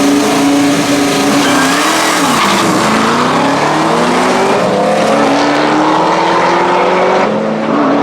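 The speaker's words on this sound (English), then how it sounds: "we've got Matt Henty with the BMW going alongside Reuben Dawson with the pickup." A BMW and a pickup truck roar side by side in a drag race at a UK street weekend drag event, loud sustained engine drone with rising revs and gear shifts, no speech heard.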